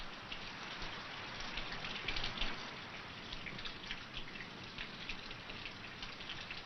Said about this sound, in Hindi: वर्षा थम रही है, हल्की हल्की बूंदें हैं